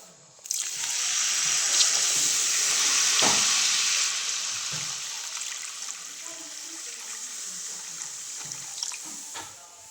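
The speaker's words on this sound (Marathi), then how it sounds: "आता गरम केलेलं पाणी टाकून घेते" Heated water pours into a pan of vegetable curry with chilli powder, giving a loud hiss and sizzle that holds steady, then slowly settles into a softer bubbling simmer.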